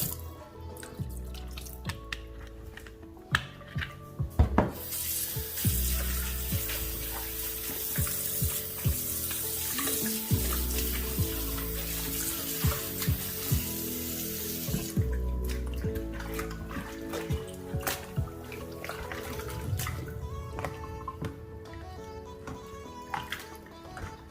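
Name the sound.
tap water running over pork in a sink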